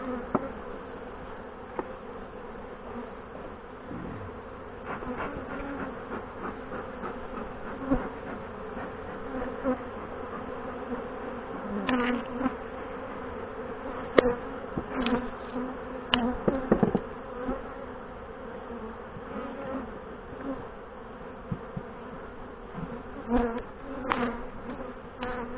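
Honey bees buzz continuously around an open hive during a beekeeping session. The drone is dense and steady, close up and fairly soft, with individual bees flying past now and then and no speech.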